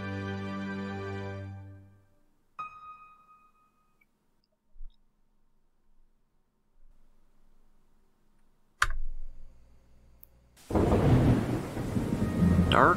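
A thunderstorm in the IFSCL video game: a faint rumble fades, then a sharp, close thunder crack hits, followed by heavy, loud rain hissing steadily to the end.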